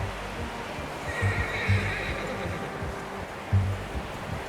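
A horse whinnies and snorts a few times at close range in Red Dead Redemption 2, over a low outdoor ambience with faint surf-like wash and occasional hoof sounds.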